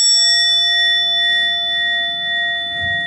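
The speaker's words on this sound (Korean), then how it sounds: "또는 이 종소리를 머금고 있어요" A meditation bell rings with a long, steady, resonant tone during a Korean mindfulness study gathering, sustained and fairly loud for the whole stretch, with no talking over it.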